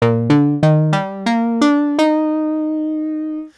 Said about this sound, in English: Let's use the JP8 vibrato lead